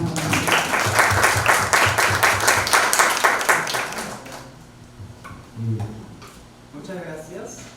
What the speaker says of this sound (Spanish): Les pido me acompañen con un fuerte aplauso para recibir a Juan Pablo.